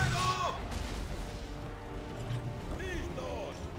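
Ship cannon broadside fire in the Assassin's Creed 3 naval battle, a burst of heavy booms and crashing impacts over steady sea and wind ambience, with shouted commands in Spanish over the top.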